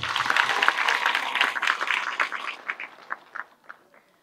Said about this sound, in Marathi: एकदा जोरात टाळ्या वाजवा.